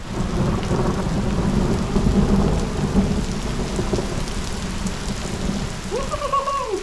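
Steady, dense rain pours down throughout, a constant close hiss with low rumbling beneath; a brief higher whine rises near the end.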